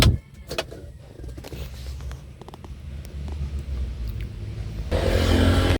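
A Mitsubishi L300 FB van engine cranks and turns over, then settles into a steady idle with a louder rise near the end; no talking.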